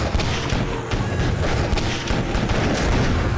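Gunfire roars through an animated zombie apocalypse series set amid meteor strikes and a spreading alien bacteria: a dense, loud, continuous barrage of shots and booms with no pauses.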